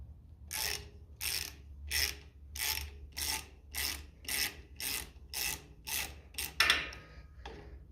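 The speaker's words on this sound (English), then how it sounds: "So we'll just get our socket on that, tighten them up." A socket ratchet wrench tightens nuts on a 1957 Ferguson FE35 TVO tractor, about a dozen evenly spaced clicking strokes close and fairly quiet, ending with a brief metallic clink.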